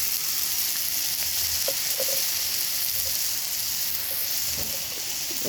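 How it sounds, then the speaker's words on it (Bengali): Ground cumin and spices sautéing in hot oil for a Bengali lunch dish, a steady close sizzle and fry with occasional soft stirring scrapes, no voices. "মশলাটাকে কষাতেই থাকবো, যতক্ষণ না তেল ছাড়বে ততক্ষণ গাইস কষাতেই থাকবে"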